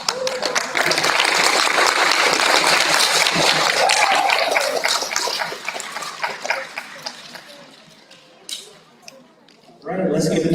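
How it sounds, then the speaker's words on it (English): Loud, dense applause fills a first-grade awards assembly at school, holding steady before thinning into scattered claps and fading, then a burst of renewed noise at the end. "let's give another round of applause"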